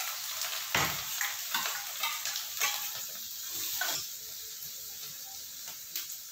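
Chopped onion and green chili sizzle and fry in oil in a home kitchen pan, a steady crackling hiss with occasional stirring scrapes, close and continuous.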